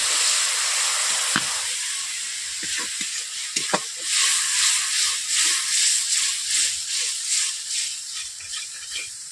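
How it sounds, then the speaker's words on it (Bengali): Spices for pumpkin dhoka sizzle and hiss steadily in a hot pan, broken by a few sharp scrapes and clacks of a stirring spoon, with the frying continuing loud and close throughout. "সবগুলো মশলা দিয়ে আমি পাঁচ মিনিট কষে নিচ্ছি"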